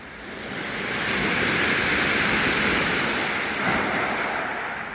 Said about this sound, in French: Ah, il y a des vagues là.